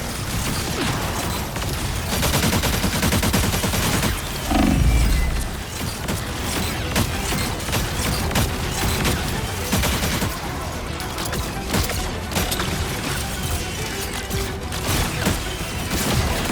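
Dense, continuous gunfire and rocket blasts from a Marvel Rivals battle against Ultron, a loud unbroken barrage of rapid shots with a heavier boom midway and no talk.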